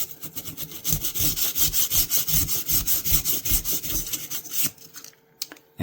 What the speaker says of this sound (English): you're rubbing both sides of the liners, and you just want to go back and forth